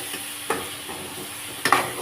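Chili powder and coriander powder being stirred into a pan of chicken biryani masala, a few quick scraping strokes of a spoon against the pan over a soft steady sizzle, with no talking.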